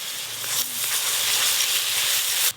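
Grated onion paste and ginger-garlic paste hit hot oil in a pan with whole cardamom, cloves and cinnamon, setting off a loud, steady close sizzle and hiss that lasts the whole moment and cuts off abruptly.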